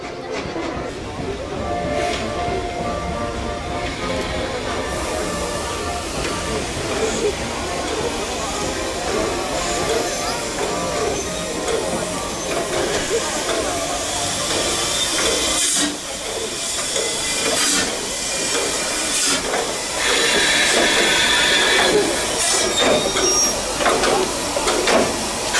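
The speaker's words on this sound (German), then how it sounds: "Der Zug hat eine halbe Stunde Verspätung eingefahren und er wird schon im Bahnhof Ottenhöfen erwartet." Steam locomotive 23 058 hisses and rumbles as it pulls into Ottenhöfen station in the Achertal, with broadband steam noise throughout and faint voices in the background.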